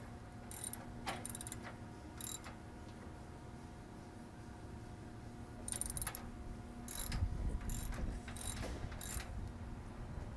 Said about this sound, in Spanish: En este caso estamos utilizando un rache